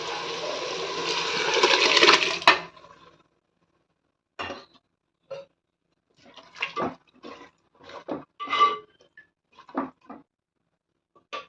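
Water is poured in a strong, steady splashing stream into a pot of mutton biryani for three cups of rice. The pour lasts a couple of seconds, and a series of short clinks, drips and stirring knocks follows.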